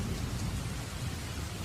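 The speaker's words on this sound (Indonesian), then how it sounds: "hujan mulai turun" Steady rain falls in a dense, even hiss with a low rumbling undertone, and no voices over it.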